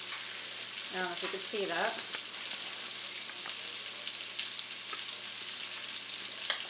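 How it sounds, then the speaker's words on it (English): Sweet sausage browning in a pan, a steady broadband sizzle and frying hiss running throughout, with a brief voice speaking near the start. "I am browning up some sausage. These are sweet sausage, not hot."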